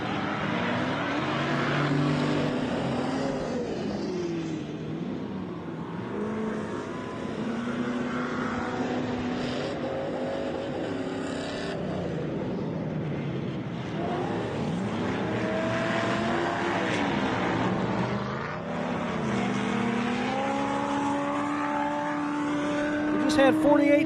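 Off-road race vehicles at a rock-crawling event, including a Genrite-built machine, rev and grind steadily throughout, with engine pitch rising and falling under continuous commentary.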